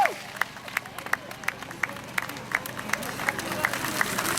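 Spectators at a cycling road race stage finish in Belfort, France, clap in a steady, sparse rhythm of distinct claps over low crowd murmur as riders arrive at the line.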